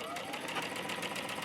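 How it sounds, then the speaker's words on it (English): Sewing machine stitching a fabric basket with foam inside, a steady rapid mechanical whir running close up for a brief moment. "lower your presser foot and sew again"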